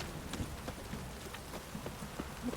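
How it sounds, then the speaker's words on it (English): Steady rain falling in The Witcher 3, a quiet continuous hiss of drops with faint hoofbeats scattered through it. "This downpour's a bastard, it is."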